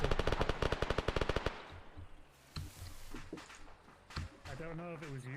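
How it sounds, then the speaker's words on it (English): A burst of about a dozen rapid machine gun shots rings out in the ArmA video game, followed by scattered distant gunfire and movement noise, with a voice talking near the end. "Machine gun fire left."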